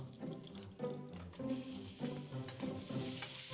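Pork tenderloin frying in a pan over very low heat with a splash of oil, a rosemary sprig and butter, a quiet crackling sizzle with soft clinks and stirring sounds.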